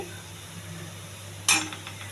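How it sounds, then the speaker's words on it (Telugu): Onion and curry leaves frying in a pan for a mushroom and cashew curry, a low steady sizzle with one sharp clink of a utensil against the pan near the end. "ఉల్లిపాయ కరివేపాకు వేసానండి"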